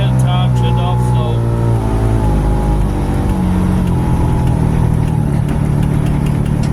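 A truck engine idles steadily with a low rumbling drone after pneumatic trailer loading, its RPMs stepped down a notch at a time, loud and continuous, with a person talking over it.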